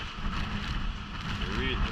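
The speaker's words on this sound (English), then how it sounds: "that's just a little normal breeze" A light breeze blows during Hurricane Beryl in Jamaica, heard as a soft, steady rush of wind with gentle microphone buffeting and no distinct gusts.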